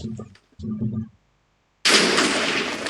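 A voice speaks briefly in two short bursts, then after a pause a loud, sustained TNT explosion in a Minecraft game erupts and roars on to the end.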